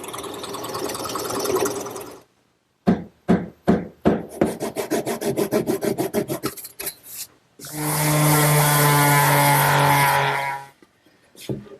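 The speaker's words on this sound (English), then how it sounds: "I'm using my 3/8 inch plug cutter and a scrap of oak to make some plugs to fill the counterbores" Plug cutter in a drill boring plugs from scrap oak, bursts of woody rasping and a rapid chattering run of cuts, followed by a sustained steady motor whine, close with short silences between.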